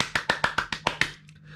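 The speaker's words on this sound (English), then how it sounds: "have a round of applause" Seven crisp, evenly spaced claps from a single pair of hands ring out quickly and close by, then stop, leaving quiet.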